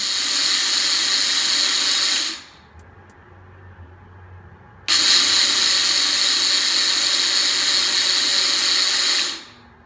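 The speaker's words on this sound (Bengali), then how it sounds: "এখন ঢাকনা লাগিয়ে কালোজিরা ভালো করে ব্লেন্ড করে নেব।" A blender grinds black cumin seeds into fine powder for kalijira bhorta in two loud, steady whirring bursts, the first about two seconds long and the second about five, separated by a quiet pause.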